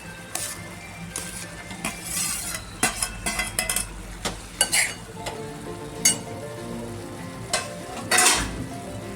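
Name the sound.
shelled pigeon pea (tur) beans added to pan, frying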